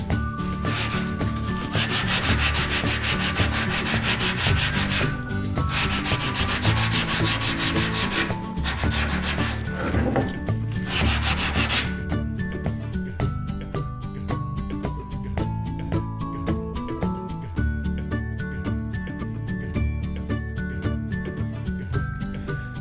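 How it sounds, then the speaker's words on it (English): Sandpaper rubs by hand along the rough edge of a wooden baseboard, making a continuous, rhythmic scratchy swish of back-and-forth strokes, close and loud, with no talking. "we'll use both 60, as you were, 100 and 150 grit sandpaper to take this rough edge down"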